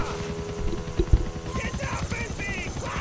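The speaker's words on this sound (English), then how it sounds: "But I gotta get on the helicopter." A helicopter in Grand Theft Auto 4 chops steadily with a rhythmic rotor pulse and engine whine, joined by game effects and a voice speaking over it.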